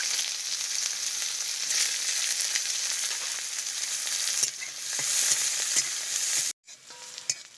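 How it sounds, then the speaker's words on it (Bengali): Onions and whole garlic cloves frying in a pan, a steady close sizzle running unbroken for most of the stretch, then a brief silent break and a few scattered crackles at the end. "পেঁয়াজটাকেও হালকা করে ভেজে নিয়েছি"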